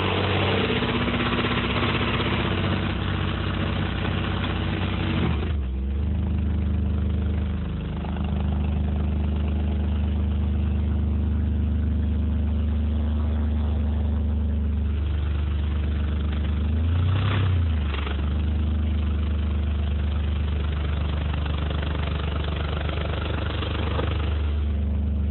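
A GMC Typhoon engine with a blown head gasket idles steadily and close by, a deep low rumble that dips briefly a couple of times before settling back to an even idle.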